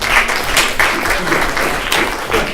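A community audience breaks into loud, steady applause, with dense clapping that fills the whole stretch without pause.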